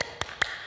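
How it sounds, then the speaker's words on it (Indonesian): Three sharp, evenly spaced claps of a rhythmic church Sunday-school hand-clap ring out close and crisp in a brief burst. "Yuk, sama-sama kita lakukan tepuk Yesus."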